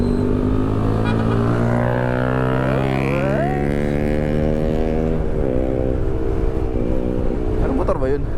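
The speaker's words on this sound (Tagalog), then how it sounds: "Malakas ng tunog ng butso eh." A loud, steady engine drone with rising and falling pitch, like a big motorcycle's exhaust revving nearby, continuing throughout.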